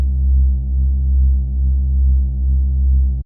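A synthesized ominous bass tone with a sub layer added holds as a steady, low, sustained drone with a gentle pulsing swell, loud and alone, then cuts off abruptly.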